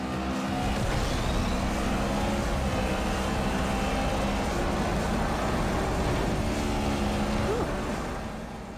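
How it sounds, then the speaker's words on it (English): Need for Speed racing on an iPad: loud, continuous engine whine and revving from game cars, steady throughout before easing off at the end. "So that's Need for Speed running on the iPad"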